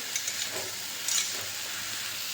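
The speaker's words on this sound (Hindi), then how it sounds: "इधर बन रहा हमारा सब्जी" Mixed vegetables cooking in a pan hiss and sizzle steadily, with a couple of brief louder crackling bursts, close and moderately loud, with no one speaking.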